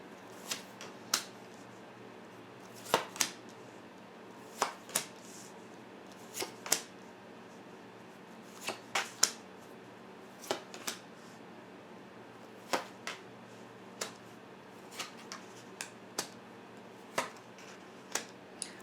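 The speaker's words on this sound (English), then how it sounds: "we've shuffled, cut, and we're going to lay the cards now" Tarot cards are dealt out one by one, each landing with a crisp slap at irregular intervals in a quiet room, with no talking.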